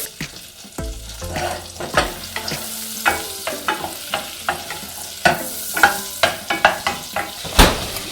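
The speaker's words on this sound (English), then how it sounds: "take the butter, dropping it into the pan, and let that melt away" Butter for a roux for creamy mac and cheese melts and sizzles in a pan, a steady close frying hiss broken by repeated scraping stirs and clinks of a utensil against the pan.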